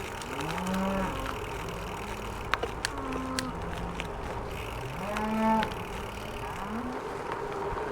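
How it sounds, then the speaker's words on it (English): Herd of cattle in a rural valley in Chittering, Western Australia, lowing with several long, drawn-out moos at varying distances, over steady outdoor ambience and a faint idling engine. "There's a lot of cows here."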